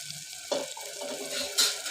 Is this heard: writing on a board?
no